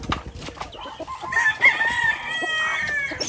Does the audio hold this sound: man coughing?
no